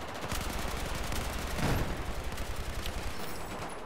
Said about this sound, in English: So many bullets.